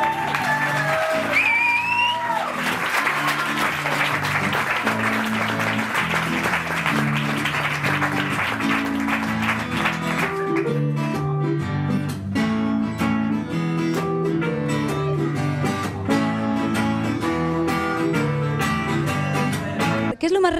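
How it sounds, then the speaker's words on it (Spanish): An audience applauds for Paula on a Vigo television show, with sustained loud clapping and some cheering that merges with music playing underneath. "Venga, otro aplauso para Paula"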